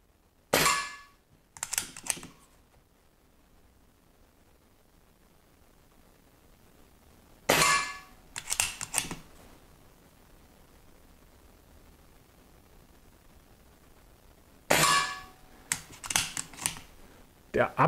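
A Diana Bandit air pistol fitted with a regulator fires three times at spaced intervals, each a sharp, close crack followed by a short burst of mechanical clicks and handling noise, with quiet stretches between.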